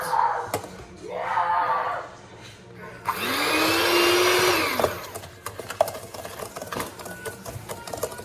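An electric hand mixer beating eggs for a tres leches cake, whirring steadily for a couple of seconds, with bowl clatter and kitchen handling sounds before and after.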